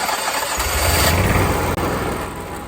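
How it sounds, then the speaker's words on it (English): An Onan generator cranks and catches, then runs at a loud, steady engine roar close by, with a brief dip partway through, and no one talks over it. "We're going to start our generator because we got to have hot oil to drain it."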